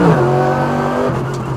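Mercedes AMG GT3 race car on a circuit, loud onboard engine note falling in pitch as it brakes into a corner, with a downshift blip and faint tire noise.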